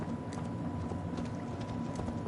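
Horse hooves clip-clop at a steady walking pace in the Assassin's Creed Valhalla video game, a quick even rhythm of clear knocks set against a constant low ambient rumble.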